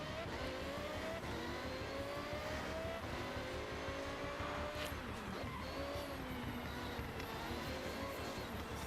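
A McLaren racing car in the Forza Horizon driving game roars continuously up close, its engine pitch climbing and shifting through gears, with occasional tire squeal over a dense, steady mix.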